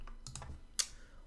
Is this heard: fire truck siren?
no